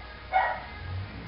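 A female dog gives a single short bark, faint and a little distant, followed by a low grumble in a quiet room.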